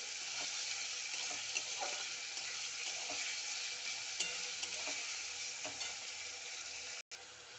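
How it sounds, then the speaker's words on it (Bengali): Onions frying in a pan and being stirred, a steady bright sizzle with soft scraping strokes of the spatula, close and even, ending with a brief cut near the close. "পেঁয়াজ দিয়ে একটু নাড়াচাড়া করে"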